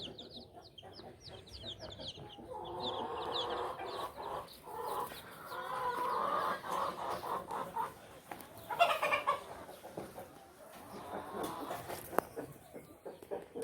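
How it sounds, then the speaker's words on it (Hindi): Chickens cluck and chirp softly at a distance, with a rooster's call rising midway among scattered peeping and rustling. "मुर्गा है।"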